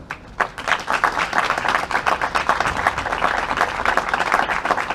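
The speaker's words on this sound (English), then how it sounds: "they deserve another round of applause" A crowd applauds steadily, dense clapping from many hands that holds at full strength for several seconds without a break.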